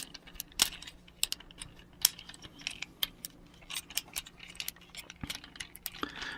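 Small plastic parts of a Transformers Masterpiece Smokescreen figure (Takara MP-19) are folded and clicked into place. Faint, sharp clicks and light rattles come at an irregular pace, close by and without any voices.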